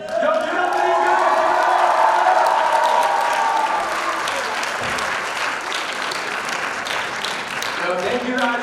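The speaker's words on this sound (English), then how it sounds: "Another big round of applause for these guys!" A high school showcase audience bursts into loud, sustained applause with cheers and whoops for the head directors, a dense crowd roar close by, with a voice speaking over it.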